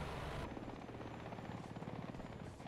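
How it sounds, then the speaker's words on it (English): An enemy helicopter in the War Thunder tank battle game, its rotor producing a rapid rhythmic thumping chop with a broad engine roar, fairly loud and steady throughout, no voices over it. "I do actually hear an enemy helicopter right here"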